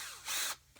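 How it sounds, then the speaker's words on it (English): A Ryobi power drill fitted with a 3/8 inch bit whirs in a brief loud burst, cuts out, then starts again at the end, nearby with no talking. "just put the 3/8 inch drill bit back in here into the old Ryobi"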